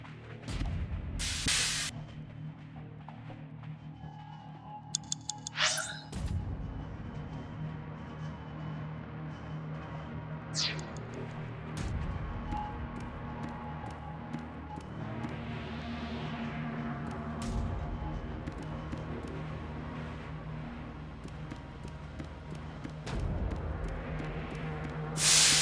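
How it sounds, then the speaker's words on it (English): In a video game, steam hisses from a broken pipe in several sharp bursts and longer swelling gushes, over a low mechanical background hum. "A broken pipe. Steam is leaking out."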